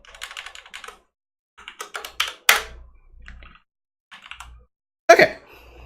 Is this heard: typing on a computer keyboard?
yes